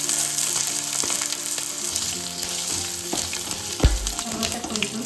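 Chilies and sesame seeds frying in a pan for dosakaya (yellow cucumber) chutney, a steady close sizzle with a few light stirring scrapes and one sharper clatter near the end.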